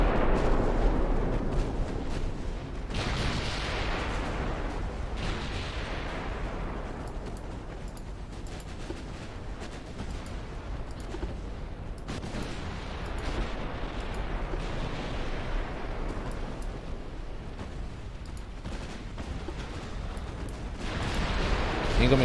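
Booming, rumbling battleship gunfire and explosions roll on continuously in a naval combat video game as a battleship goes down, heavy blasts recurring every few seconds over a dense low roar.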